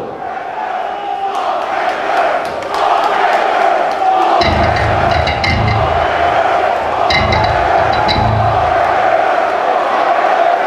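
A concert crowd in the Towson Center Arena chants loudly throughout, with rhythmic shouted bursts swelling in the middle and near the end over a steady roar of the audience.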